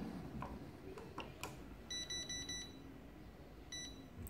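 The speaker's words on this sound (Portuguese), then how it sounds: "Ele deu dois bips." Two short high-pitched electronic beeps from a pager in a PE-500 queue management system sound in quick succession after a few soft clicks, with another brief beep near the end over quiet background.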